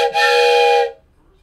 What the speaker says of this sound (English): this deserves the wooden train whistle.